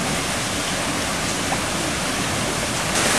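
Water spills steadily over the natural stone edge of a backyard pool, a continuous, close, broadband rushing wash with no pauses or voices.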